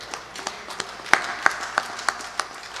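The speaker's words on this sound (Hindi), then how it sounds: "ताली क्यों बजानी है?" A small gathering at a Hindu devotional discourse claps in scattered, sparse beats, about a dozen distinct hand claps spaced across a few seconds, fairly faint and with no speech over them.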